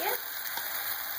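Gram flour batter and chilli masala roasting in hot oil, giving a steady close sizzle with faint stirring scrapes, heard alone without talk.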